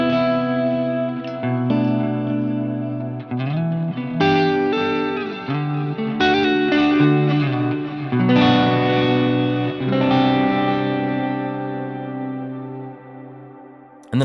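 Clean electric guitar through a Fractal preset playing sustained chords and melodic notes, washed in echoing delay and spacious reverb turned all the way up, ringing out alone and fading at the end.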